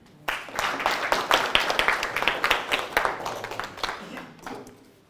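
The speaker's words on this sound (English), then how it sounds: "Let's give him a clap." An audience breaks into applause, a dense burst of clapping that starts abruptly, holds steady for several seconds and then tapers off, with some voices mixed in.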